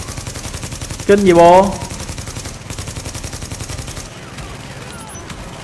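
Rapid automatic gunfire from the PS4 shooter Tom Clancy's The Division rattles steadily and loudly throughout, with a player's voice briefly heard early on.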